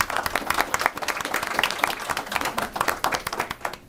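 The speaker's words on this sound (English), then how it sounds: "If we could give Carter a round of applause" At a board of education meeting, an audience claps steadily for a student being honored: a bright, continuous patter of many hands, moderately close, with a faint murmur underneath.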